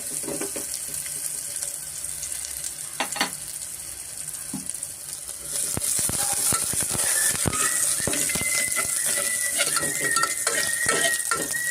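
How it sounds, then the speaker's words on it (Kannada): Onion fries in a pan for a midday-meal green gram sambar, a steady sizzling hiss rising partway through, with spoon scrapes and metallic clinks against the pan. "ಈರುಳ್ಳಿನ ಅದನ್ನು ಸ್ವಲ್ಪ ಸೇರಿಸ್ಕೊಂಡು ನಾವು ಫ್ರೈ ಮಾಡ್ಕೊಬೇಕಾಗತ್ತೆ ಸ್ವಲ್ಪ ಫ್ರೈ ಮಾಡಿಕೊಂಡ್ರೆ ನಮಗೆ ಸಾಕು"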